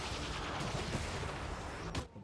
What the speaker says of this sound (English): Yes, I had to shoot him again.